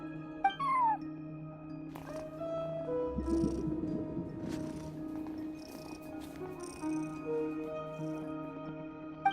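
In Genshin Impact, a game cat gives a series of meows along with softer purring and chirping sounds over a steady tonal game music bed, moderately loud and without speech.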